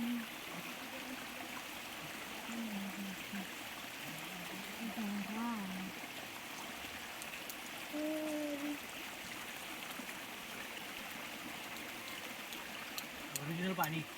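Spring water from the ground in rural Konkan runs as a steady, moderate trickling stream through the whole stretch, with voices talking intermittently over it.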